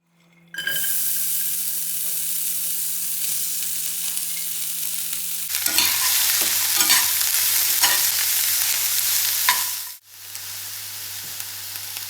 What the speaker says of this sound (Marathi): आता आपल्याला कांदा आणि टोमॅटो चांगलं भाजून घ्यायचं आहे.